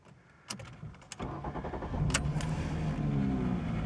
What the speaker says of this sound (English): I'm going to put the key in the ignition, give it a turn